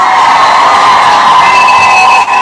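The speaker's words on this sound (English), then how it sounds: "Another round of applause" Loud, dense crowd cheering and applause from a live comedy audience, a continuous roar of claps and whoops that holds steady throughout before dipping briefly near the end.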